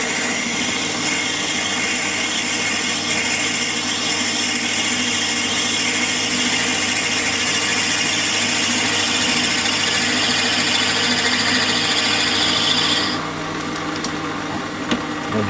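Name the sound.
Warco lathe parting off a piece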